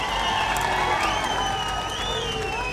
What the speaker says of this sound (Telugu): మీరందరూ చప్పట్ల స్వాగతం పలకాల్సిన కోరుతా ఉన్నాను